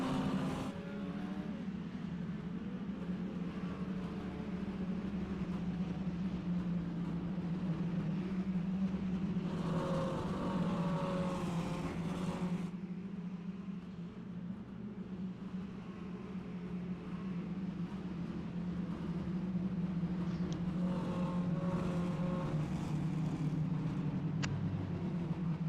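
A field of mini stock race cars drones steadily around the FAPA I-55 Federated Oil Parts Raceway in iRacing. The engine roar stays continuous and fairly distant, with a passing surge midway and no voices.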